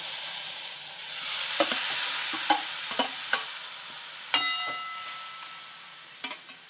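Mashed bottle gourd dropped into a hot oiled wok, sizzling steadily with a bright hiss, broken by sharp scrapes and knocks of a spatula against the pan at irregular intervals.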